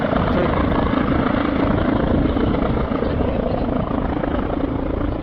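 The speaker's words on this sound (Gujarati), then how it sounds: "આવ્યું હવે હેલિકોપ્ટર" Steady, loud helicopter rotor and engine roar at an air show in Canada, filling the whole stretch, a continuous broadband drone with no pauses, close overhead.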